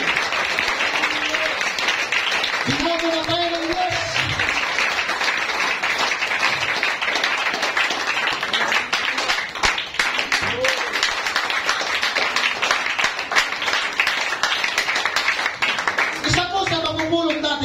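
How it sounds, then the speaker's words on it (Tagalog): A church congregation at a preaching service claps loudly and steadily in praise, a thick continuous roar of applause while a voice speaks over it at the start and end. "Lakasan natin ang ating palakpak para sa ating pong Panginoon"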